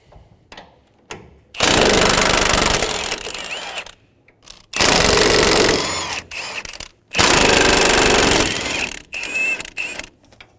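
Impact wrench with an 18mm socket removing three strut nuts on a 2014-2018 Chevrolet Silverado, three loud, close bursts of rapid hammering of one to three seconds each, separated by short gaps.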